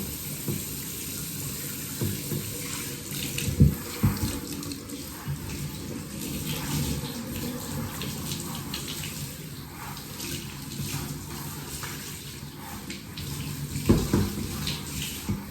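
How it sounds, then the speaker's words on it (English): Tap water runs steadily while a groodle is bathed during grooming, a constant broadband splashing with occasional louder spatters and shifts as the stream hits fur and tub, no talking over it. "So we're just going to get started with Winter's bath"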